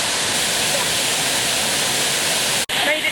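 Olympus waterfall in a Costa Rican rainforest roaring as a dense, steady rush of falling water, loud and continuous, with a brief dropout near the end.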